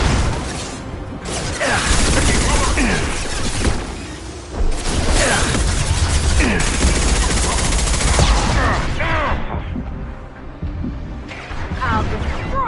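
Heavy sustained gunfire in Mass Effect 2 combat, dense overlapping shots and impacts with bursts and crashes, loud and continuous, with voices shouting during the fight.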